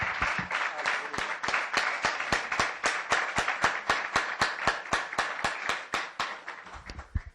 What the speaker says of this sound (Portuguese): Vamos dar uma salva de palmas bem bonita para o nosso Deus.